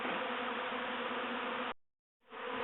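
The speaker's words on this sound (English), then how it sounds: "here are the bees still gathering" A swarm of honey bees gathering at a top bar hive makes a steady, loud, close buzzing drone that cuts out briefly and then resumes.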